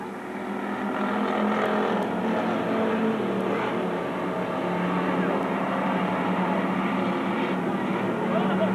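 A dirt track race car engine drones at Magic City Speedway in Billings, Montana, a steady, moderately distant roar that swells slightly midway and keeps going without a break.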